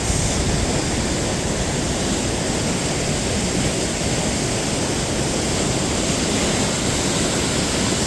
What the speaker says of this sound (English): The river is running under these rocks.